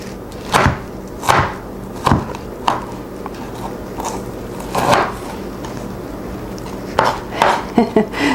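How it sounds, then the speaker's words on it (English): A knife chops through a frozen chili pepper on a cutting board, seeds and all, giving sharp, irregular thuds and clacks spaced about a second apart, close and fairly loud. "you're just going to chop this up, seeds and all, and add this to the mix"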